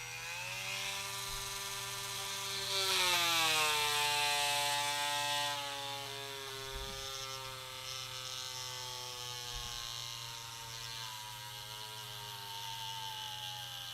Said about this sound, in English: Man, that was really tough to drill through.